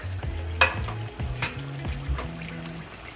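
A bacon-wrapped burger sizzles in deep-frying oil after being lowered in with tongs: close bubbling and crackling with a few sharp pops, no talk.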